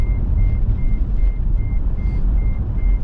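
Steady reversing beeps from a nearby vehicle, repeating at an even pace with a low engine rumble underneath and no talk.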